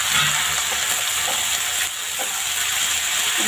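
Boiled black chickpeas mixed into a hot pan of frying masala give a steady, close sizzling hiss, with a few soft scrapes of stirring and no voices.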